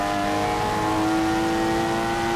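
A BMW M2 in the racing game Forza 7 accelerates at full throttle, giving a steady, loud, tonal engine drone with strong harmonics that holds close and continuous with no talk.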